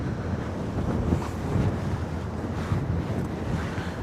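Gusty, cold wind batters the microphone in a continuous rushing roar on the Westerschelde, Netherlands, swelling and easing in waves, with no voices.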